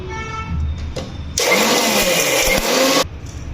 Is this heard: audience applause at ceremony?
no